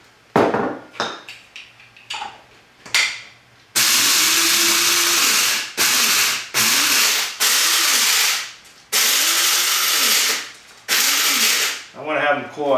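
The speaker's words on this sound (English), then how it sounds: "this is a 1/2 cup of black peppercorns. I'm going to crush them up a little bit." Black peppercorns are coarsely crushed in a grinder, heard as loud, close bursts of harsh grinding repeated several times with brief pauses between, after some scattered taps and handling sounds.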